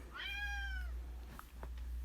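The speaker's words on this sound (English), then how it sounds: "my cat Basil is here to join us" Basil the cat lets out a single drawn-out meow, close and clear, rising then falling over about half a second, followed by faint small rustles and a steady low hum with no talking.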